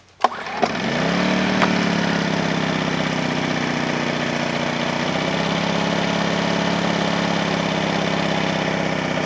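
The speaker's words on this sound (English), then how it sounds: "we'll give it a pull here and see if we can get it going." Generac 2100i inverter generator pull-started with a couple of sharp yanks, then catching and running at a steady close, loud hum with no talk.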